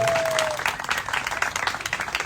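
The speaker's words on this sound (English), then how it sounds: "Clap it up for my staff in the yellow" An audience at a Crop Swap press conference claps for staff members in yellow, a burst of dense, close applause with a voice briefly audible near the start.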